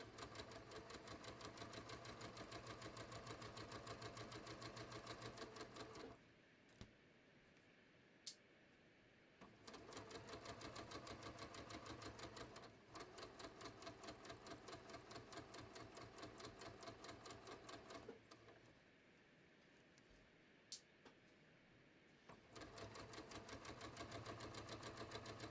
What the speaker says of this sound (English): I'm just going to very carefully sew, really close to the edge